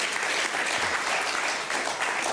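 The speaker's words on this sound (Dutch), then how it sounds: "Mag ik applaus" Dense, steady audience applause during a Dutch late-night comedy show, a continuous wash of clapping from a full crowd without pauses.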